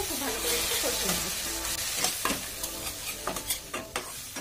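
Spices and hand-mashed tomato are stir-fried for a restaurant-style fish curry: a hot sizzle that eases off as a spatula scrapes the pan in quick, rhythmic strokes, close and clear.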